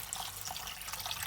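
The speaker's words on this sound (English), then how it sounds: "A little bit of water." Water is poured from a container into a simmering beef meatball curry pot, giving a soft, steady splashing trickle that stays faint and unbroken.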